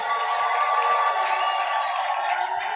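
A church congregation raises a sustained, dense wave of cheering and voices as a joyful acclamation offering of thanks during a worship service, loud and continuous throughout.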